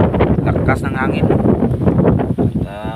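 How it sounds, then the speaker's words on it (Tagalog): Strong wind buffets the microphone with steady low rumbling gusts, close and loud, while someone talks over it outdoors on a fishing outing. "lakas ng hangin."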